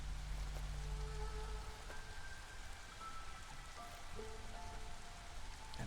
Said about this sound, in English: it's raining all the time because we're playing in Britain